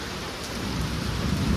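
Steady rain pours down during a thunderstorm, a dense hiss with a low rumble of thunder building toward the end, continuous and close with no talking.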